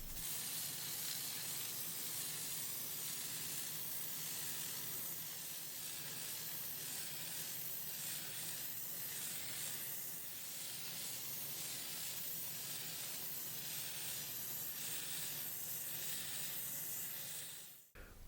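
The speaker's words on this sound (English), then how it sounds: "If you're using spray paint, apply a thin coat from each side." Aerosol spray paint hisses steadily from a can for about eighteen seconds, coating the parts of a steampunk chronograph clock kit, a constant close broadband spray with slight pulsing before it cuts off.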